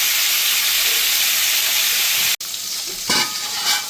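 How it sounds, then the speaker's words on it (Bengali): Cauliflower fries in a pan with a loud, steady hiss of sizzling oil, briefly cut by a sharp break, then resuming with stirring scrapes and bursts of crackle. "ফুলকপিটা আমি ভালো করে একটু এবার ভেজে নেব।"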